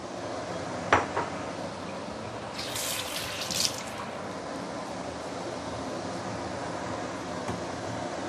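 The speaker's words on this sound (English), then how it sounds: "And I will add up some hot water." Hot water pours into a pot of pomfret fish soup with chicken stock, a steady faint splashing stream with a couple of clinks from the pot and one brief hissing burst midway.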